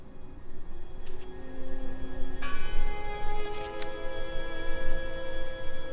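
In the Draugen video game a bell rings out, a few resonant metallic strikes ringing on over a noisy ambient background, moderately loud and somewhat distant.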